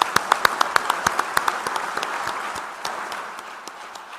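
An audience at a political speech breaks into applause: sharp, rhythmic claps at first that soon blur into a denser, fading patter of many hands.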